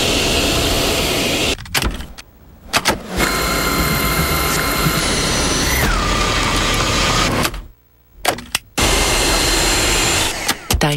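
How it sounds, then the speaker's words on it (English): A Dyson V6 cordless vacuum cleaner runs with a loud, high motor whine that cuts out and restarts several times, with short bursts and pitch shifts between the gaps. "Dyson V6 vacuum."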